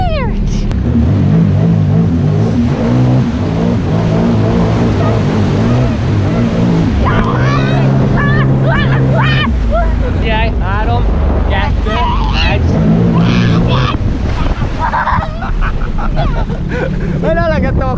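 Jet ski engine running on water, a loud continuous droning whine that rises and falls in pitch with throttle changes, mixed with splashing and wind buffeting throughout.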